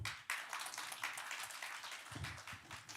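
A church congregation applauds during a Sunday service, a faint, continuous patter of many hands clapping that starts abruptly and carries on steadily.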